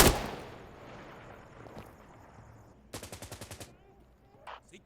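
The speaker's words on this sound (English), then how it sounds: "This game features a lot of pretty realistic gunplay and noise" Gunfire in Insurgency Sandstorm: a sharp shot at the start, scattered distant reports, then a rapid automatic burst of about eight evenly spaced rounds, followed by a couple of faint later shots.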